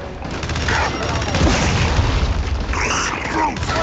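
Repeated heavy booms and rapid gunfire-like bursts from grenade explosions in the video game Gears 5, loud and continuous over a dense battle din, with players' voices mixed in.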